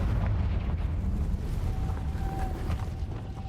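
A Confringo fire spell blast in the Hogwarts Legacy video game roars as a loud, dense rumbling explosion that carries through the whole moment and slowly tails off, with a thin tonal whine showing briefly near the end.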